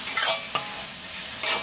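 Eggs being sautéed in curry masala in a hot pan, a loud, close sizzle with a few quick scraping stirs breaking through the steady hiss, no voices.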